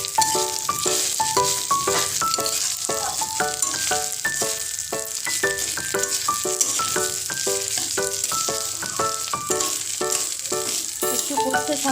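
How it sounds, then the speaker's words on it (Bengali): Fried potatoes stirred in a pan of vegetarian khichuri, a continuous sizzle under a quick, regular run of metallic scraping and clinking strokes from the spoon, close up with no talk. "এর মধ্যে আমি আলুটা ভেজে রাখা আলুটাও দিয়ে দেবো।"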